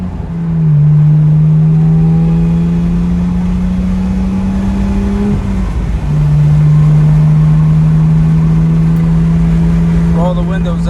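BMW N54 with a catless downpipe pulling onto a freeway, a loud steady engine drone that rises in pitch, drops briefly at a shift, then climbs again, with a voice heard over it.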